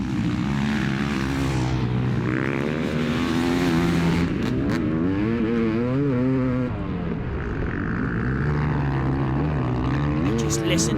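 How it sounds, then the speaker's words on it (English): A Yamaha YZ500 500cc two-stroke dirt bike races hard, its engine droning and wailing continuously with rising and falling pitch as it works through corners and up a hill, loud and close throughout. "listen to the bike feed in the deep corner and sing up the hill. Just glorious from the 500cc two-stroke."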